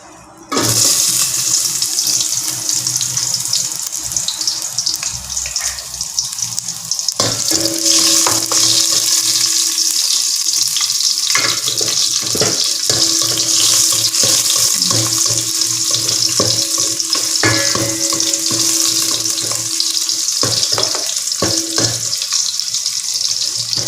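Garlic frying in a little oil for chicken soup makes a loud, steady, dense sizzle that starts abruptly and runs throughout, with occasional clinks of a utensil against the pan.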